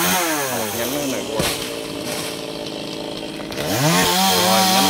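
A chainsaw cuts a large branch of a huge xà cừ tree near power lines by a market, its engine loud and close, revving high, dipping briefly, then surging again.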